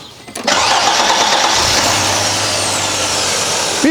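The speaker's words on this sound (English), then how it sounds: "That cranks a whole lot better than the old one did." An Audi 80 engine fitted with a new starter motor cranks sharply and fires at once, then runs at a loud, steady idle close by with no voices.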